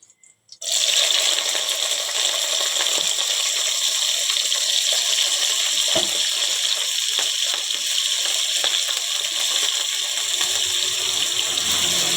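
Brinjal pieces go into a hot pan of oil with curry leaves and set off a sudden, loud, steady hiss of frying. The hiss stays strong and continuous, with a few small clinks over it and no talk.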